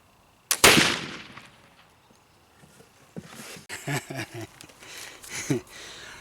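A single loud gunshot from a firearm loaded with homemade black powder, sharp and close, ringing off over about a second, followed by softer clattering and handling noises.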